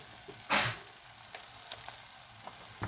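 Flour stirred into vegetables for a hot dog soup gives a low sizzle in the pot, with one sharp scraping stir near the start and a few faint clicks of the spoon after it.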